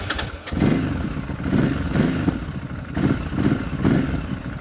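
A Ducati motorcycle engine cranks and catches, then throbs in a steady, loud, close rhythm of low pulses with no talk.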